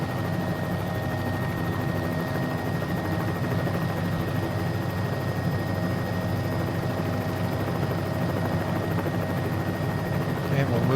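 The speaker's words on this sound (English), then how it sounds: "this helicopter has the best sound out there" A helicopter hovers in Microsoft Flight Simulator, its rotor producing a steady, dense low thrum with a constant whine on top, loud and continuous throughout without pause.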